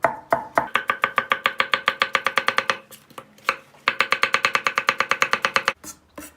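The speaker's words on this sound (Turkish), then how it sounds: "Lezzete lezzet katmak için bir de soğan doğrayacağız." Rapid, rhythmic knife chops through an onion on a cutting board, two fast runs of steady taps with a brief pause between, close and crisp.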